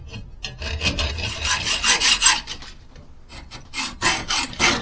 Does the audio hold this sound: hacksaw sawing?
yes